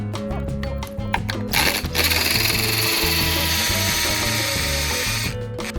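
A power drill with a carbide bit whirs and grinds loudly and steadily into a brick wall, with rapid clicking ratchet-like pulses at the start and end.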